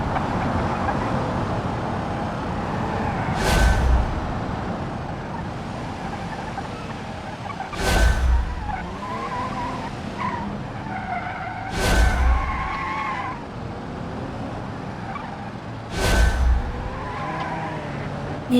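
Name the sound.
car tires skidding as rear slides out, BeamNG video game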